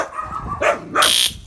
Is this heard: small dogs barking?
yes